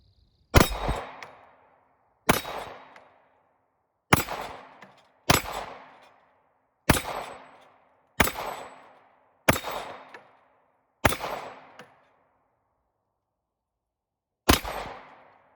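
Springfield SA35 pistol fired at an outdoor range, nine sharp, loud shots spaced roughly a second or two apart, each followed by a brief ringing decay, with a longer pause before the final shot.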